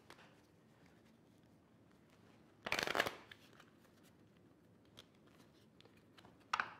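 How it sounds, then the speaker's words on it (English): A deck of pretty playing cards is shuffled during a solo tabletop game, with one sharp riffling burst of cards followed by quiet handling and faint clicks, then a second brief riffle at the end. "Okay, so gotta shuffle her cards again."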